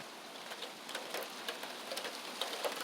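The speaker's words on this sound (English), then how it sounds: "it's raining even harder" Steady spring rain falls outdoors in Colorado, a soft continuous patter with scattered sharper drops tapping on surfaces nearby.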